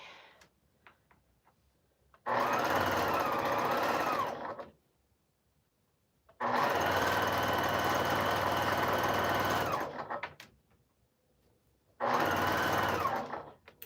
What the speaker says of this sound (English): we're going to actually sew it in